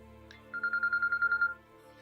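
A phone rings with a rapid trilling electronic tone lasting about a second, clear and close over faint background hum.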